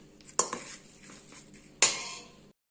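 A utensil scraping and clinking against a bowl while eggs are stirred into choux pastry dough, two sharp metallic clinks with softer scraping between them, close and quiet.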